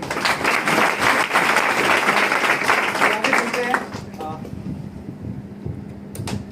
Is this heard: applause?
yes